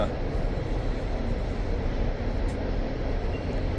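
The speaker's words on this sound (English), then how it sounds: "You got this train coming through, and the train actually goes over my driveway." A train passes close by, its tracks crossing a residential driveway, making a steady, loud low rumble that fills the whole moment.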